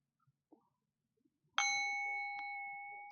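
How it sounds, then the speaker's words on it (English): A bell struck once and left ringing with a long, bright sustain, then tapped again more lightly about a second later, both close and clear after a few soft faint bumps. "When I ring the bell"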